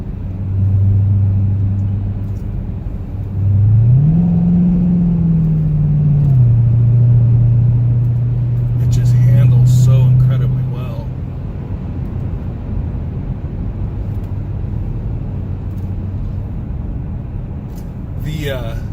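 A 2009 Cadillac CTS-V engine drones steadily low while driving, rising and settling as the revs change, under nearly continuous talking.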